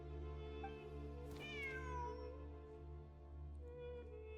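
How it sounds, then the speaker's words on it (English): A cat in Genshin Impact gives one clear, rising-falling meow over a steady humming musical backdrop. "Wait, there it is! The cat!"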